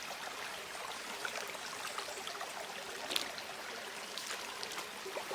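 A clean farm river flowing while walking upriver, a soft continuous trickling and babbling of water with small splashes, moderately close and alone without talk.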